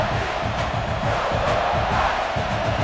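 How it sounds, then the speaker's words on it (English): A stadium crowd roars steadily at a college football game between South Carolina and Coastal Carolina, a dense, sustained wall of cheering with no pause. "The roar of the crowd trying to fuel this defense to keep them pinned in their own end"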